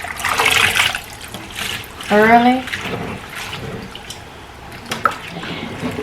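Cold tap water runs while bok choy is washed in a kitchen, short splashing bursts of water close by, mixed with a person talking.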